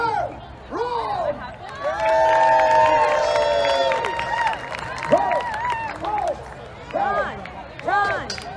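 A crowd at a Renaissance festival joust cheers, whoops and claps for a knight in rising and falling bursts, with excited voices calling out nearby.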